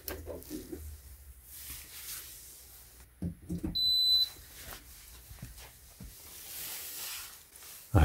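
A TaoTronics 1500W dual PTC portable space heater gives a short, high electronic beep when plugged in, a single clear tone among quiet handling noises.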